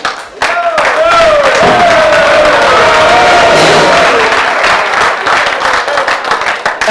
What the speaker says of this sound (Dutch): Frans, ook voor ook natuurlijk een applaus hier